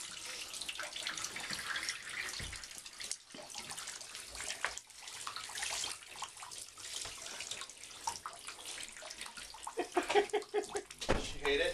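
Warm tap water runs steadily as a small dog is bathed, a continuous splashing flow with light dripping, while people talk quietly nearby.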